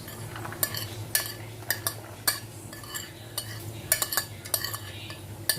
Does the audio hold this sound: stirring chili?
yes